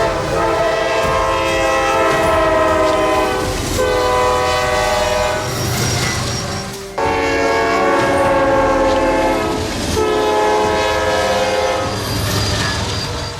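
Train passing close by with its horn blaring in long, loud sustained blasts that repeat several times, over rumbling wheels and clatter on the track.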